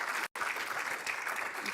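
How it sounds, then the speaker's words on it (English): Applause at a talk on universal truth, a steady crowd clapping at moderate volume with one very short gap near the start. "big round of applause for Sister Dianne."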